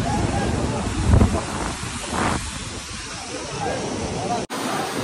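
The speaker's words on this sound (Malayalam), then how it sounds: "ഇവിടെയുള്ള അടിപൊളിയായിട്ടുള്ള ഒരു വെള്ളച്ചാട്ടം പരിപാടികളുണ്ട് ഇവിടെ." A waterfall at Al Baha, Saudi Arabia, roars as a steady broadband rush mixed with wind buffeting the microphone, with a brief dropout near the end.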